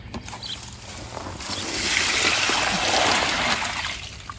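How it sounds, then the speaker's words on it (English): Water tipped out of a container in a garden to drain it, a broad splashing pour that swells in the middle and tapers off, close by with no talk. "I need to tip the water out"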